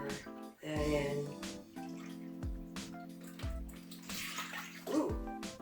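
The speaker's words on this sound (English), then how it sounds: "then to that I'm going to add 2 cups of vanilla unsweetened almond milk" Vanilla unsweetened almond milk poured into a pudding mixture, gurgling, splashing liquid in bursts close by, with musical tones and some low voice sounds underneath.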